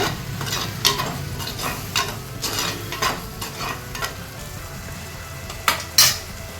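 Prawn thokku masala sautés in a pan, a soft steady sizzle broken by repeated scraping stir strokes of a spatula at an uneven pace, close and without talk.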